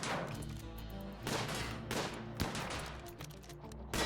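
Bursts of gunfire from the colony-management game Rimworld crack out in a few separate volleys over a continuous background of tonal music, sounding faint and distant in the mix.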